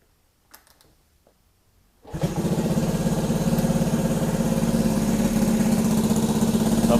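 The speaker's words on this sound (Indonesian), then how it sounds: "Langsung kita tes nyala mesinnya seperti apa." A restored Honda S90Z motorcycle engine fires up after about two seconds of near silence, then settles into a steady, loud, close idle that keeps running evenly to the end, with no talking.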